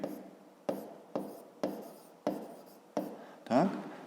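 Pen strokes on paper while working a fifth-grade maths exercise, seven short scratchy bursts at a steady pace, close and fairly quiet, the last stroke longer and rougher.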